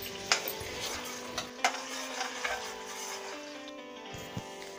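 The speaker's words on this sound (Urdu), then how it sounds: "پیاز کو ہلکا براؤن ہونے تک بھونیں گے." Chopped onions with a bay leaf fry in hot oil for chicken nihari, a soft steady sizzle with a few sharp scrapes and clinks of a spoon against the pot, no talking.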